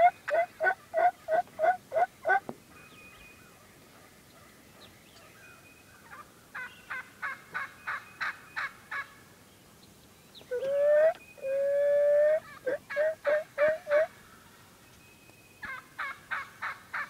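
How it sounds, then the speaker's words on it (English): A flock of wild turkeys, gobblers walking toward the listener, calls in repeated bursts of rapid clucking and yelping with a few longer rattling gobbles, moderately close and clear against a quiet outdoor backdrop with no talk. "at least 20 gobblers. They're walking at us."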